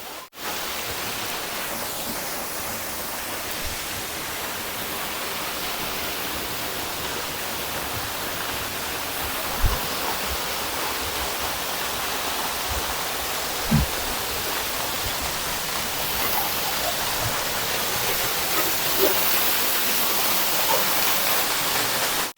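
A monsoon waterfall pours beside Waghbil cave near Tahuli in Badlapur, a loud, continuous broadband roar of falling water with a few faint knocks and no talking.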